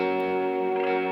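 Guitar chords ring out as sustained, layered tones soaked in ambient reverb and effects, filling the space steadily and loudly with no voices.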